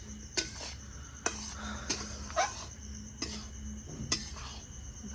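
Spoon scraping and clinking against a pot as gram flour and semolina fry in ghee for barfi, several sharp knocks spaced irregularly over a low steady background.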